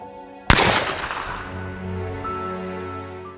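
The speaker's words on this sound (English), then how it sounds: "With a loud bang from a gunshot outside, you dart awake in your bed." A single sharp gunshot cracks out outside after a brief quiet, its loud boom decaying into a lingering rumble and faint ringing tones.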